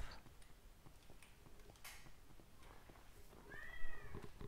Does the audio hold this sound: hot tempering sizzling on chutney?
no